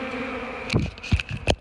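Honeybees buzz close around a hive in Texas, a continuous drone broken by a few brief, louder bursts as bees fly near.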